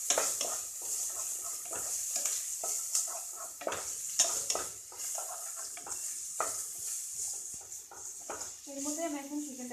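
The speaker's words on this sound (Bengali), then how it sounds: "কাঁচা লঙ্কা কুচি ভালো করে একটু ফ্রাই করা" Chopped green chillies fry in a hot pan for chicken chowmein with egg, a steady sizzling hiss broken by repeated scraping stirs of the spatula, and a voice briefly joins near the end.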